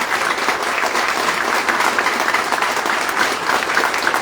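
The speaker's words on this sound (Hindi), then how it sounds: "तो जोरदार तालियां सैयद सर के लिए।" Loud, dense clapping from a large audience at a business team event, sustained and steady throughout with a faint crowd murmur underneath.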